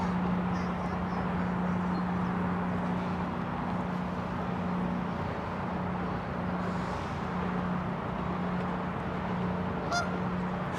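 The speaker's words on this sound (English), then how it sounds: "You can hear the geese honking." Geese honking in the distance along the Hudson River Greenway in New York City, over a steady roar of traffic and wind, with a low hum running throughout.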